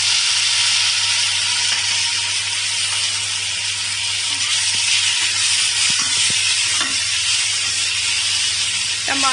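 Tomatoes dropped into a pan of onions browned to dark brown, frying for bhindi do pyaaza, give off a steady, loud hissing sizzle that holds evenly throughout with no talking.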